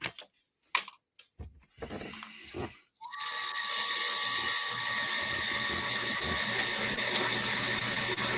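A few knocks and handling noises lead into a drill starting up and running steadily with a loud, high whine, boring into a workpiece from one end in a workshop aboard the ship Lady Washington.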